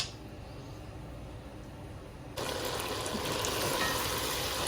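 Marinated chicken pieces fry in a pan for chicken jalfrezi, giving a steady hiss that jumps to a louder, brighter sizzle partway through and holds there, with no talking.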